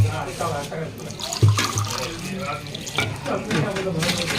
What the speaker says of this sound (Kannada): 6 ಗ್ಲಾಸ್ ಹಾಕೊಂಡ್ಬಿಡ್ರಿ ನೀರು.